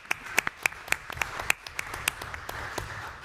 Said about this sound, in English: I think that's actually worth a round of applause to everybody here.